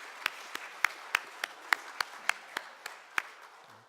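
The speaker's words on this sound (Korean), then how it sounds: "잘 되라고 박수 한번 쳐주시면 어떻겠습니까?" A church congregation claps in a loose, scattered rhythm of about a dozen distinct handclaps over a quiet hall, each clap sharp and fairly close, with no cheering or talk.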